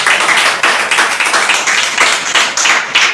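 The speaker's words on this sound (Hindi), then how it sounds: "मैडम प्लीज जोरदार ताली बजाइए।" An audience claps loudly and steadily at an investment company event, a dense, continuous burst of applause that swells in small waves for a few seconds with no talking over it.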